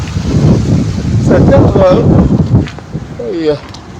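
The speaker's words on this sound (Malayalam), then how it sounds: "നല്ല ചൂട് കാറ്റാണ് ആ മല പോയി തട്ടിയിട്ട് ഇങ്ങോട്ട് ചൂട് കാറ്റ് വരുവാണ്" Steady hot wind rushing and buffeting against the microphone near a hill, with a low roar throughout and a voice talking briefly near the end.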